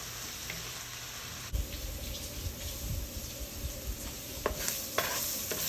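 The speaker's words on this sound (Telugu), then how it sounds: "ఆనియన్స్ లైట్ గోల్డెన్ ఎల్లో కలర్లో వచ్చే వరకు ఫ్రై చేసుకోవాలి" Onions fry in a pan for palak paneer with a steady, soft sizzle, while a few light clinks of stirring cut through at intervals.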